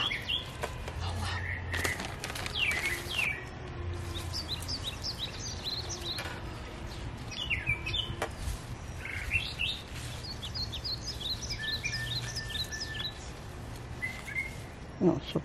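Songbirds chirp and sing outdoors in repeated bright, high trilling phrases throughout, some close and clear, over a low steady background murmur, with faint voices occasionally present.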